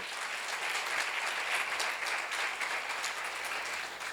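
Steady applause from a congregation at a church seminar, a dense, even wash of many hands clapping at moderate distance, sustained throughout with no break.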